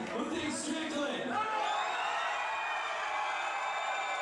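A fight-event crowd at a grappling show cheers and whoops in support of a fighter, a broad roar of voices heard beneath someone talking close over it.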